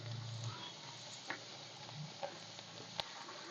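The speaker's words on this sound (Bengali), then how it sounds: "আর এইভাবে কিন্তু আমি উল্টে পাল্টে ভেজে নিচ্ছি" Raw potato chips frying in oil as they are turned over, giving a soft, steady sizzle with a few faint clicks of the utensil, quiet and without talking.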